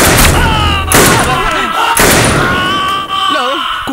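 Sharp gunshot bursts from a movie soundtrack crack out in quick succession, loud and close, separated by brief gaps with music and tonal effects ringing between them.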